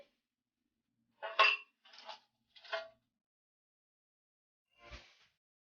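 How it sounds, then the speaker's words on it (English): Cooked pumpkin is spooned into a dish, giving three quick scrapes and clinks of a spoon against the dish, then a pause and one more soft scrape, close and quiet. "Dish out my pumpkin."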